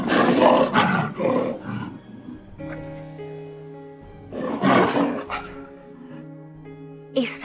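A deep, loud tiger roar from a tiger-man character in a TV drama sounds in two long bursts, with sustained music tones filling the gaps between them.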